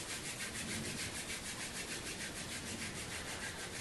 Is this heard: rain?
no